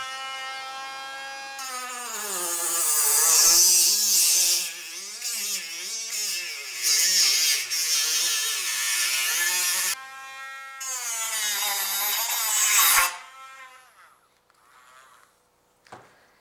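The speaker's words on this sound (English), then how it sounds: "I'm gonna take a Dremel tool and we're gonna cut through this." A Dremel rotary tool cuts through a metal test can coated in fire barrier, whining at a high pitch that rises and dips as it bites, loud and close, with brief pauses and the motor spinning down at the end.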